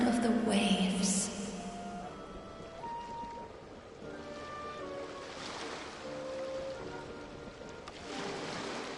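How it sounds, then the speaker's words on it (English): Ocean waves in Genshin Impact wash softly and steadily in the background, with a faint, continuous surf wash under a few bright chime-like game tones near the start. "Go to where you can hear the sound of the waves."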